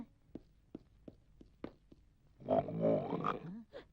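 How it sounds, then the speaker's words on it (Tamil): A tiger growls in a low, rough rumble that swells and fades, preceded by a few soft, steady footfalls, fairly close with no speech. "சித்தப்பு இங்கதான் உருமல் சத்தம் கேக்குது"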